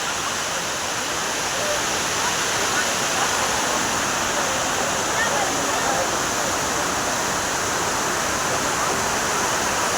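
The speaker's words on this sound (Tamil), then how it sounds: "தண்ணீர் அதிகமாக விழுந்துட்டு இருக்கனால குளிக்க அனுமதி கிடையாது" Heavy water pouring down Courtallam main waterfall, a loud, steady broadband roar of falling water that holds constant and close throughout, with no breaks.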